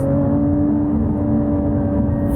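A Lotus Evora GT engine runs loud and close, a steady low mechanical drone holding an even tone throughout without any clear rise in pitch.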